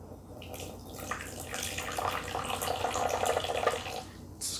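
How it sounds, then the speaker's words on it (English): Dian Hong black tea pours from high up into a cup in a steady, splashing stream that lasts several seconds. "I'm pouring it high to kind of cool it off a little bit."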